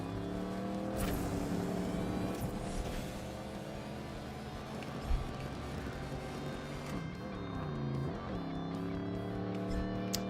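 A race car engine in a stunt racing video game drones steadily with layered harmonic whine, pitch dipping and rising near the end as throttle shifts, loud and continuous with no talk.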